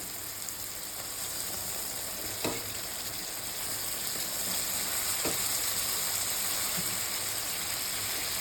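Vegetables go into a pan of cooked-down tomatoes for daal bhaaji, giving a steady, moderately loud hiss of sizzling oil with two brief knocks of a utensil partway through.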